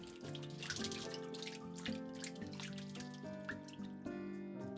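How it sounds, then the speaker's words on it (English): Cooked udon noodles are rinsed under running water in a kitchen, a continuous splashing wash heard beneath steady background music. "I rinse them to remove the slimy texture."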